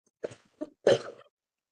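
Three short coughs close by, the last one the loudest and longest, with silence in between.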